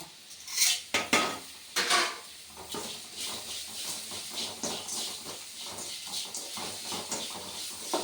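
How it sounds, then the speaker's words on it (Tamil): Asafoetida, chilli powder and rock salt are sautéed in oil in a pan, heard as a series of sharp metal clinks and scrapes from a spoon against the pan over a faint sizzle, close and fairly quiet. "அப்புறம் கொஞ்சம் பெருங்காயத்தூள் எல்லாம் போட்டு எண்ணெயிலே நம்ம வதக்கிக்கலாம்."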